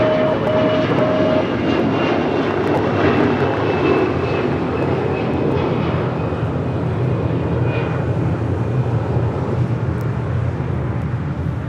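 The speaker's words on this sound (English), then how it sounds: "788 departing to Toronto on an A321." An Air Canada Airbus A321 airliner takes off from Los Angeles International Airport, its jet engines giving a loud, steady roar that holds strong and continuous throughout, with no voices over it.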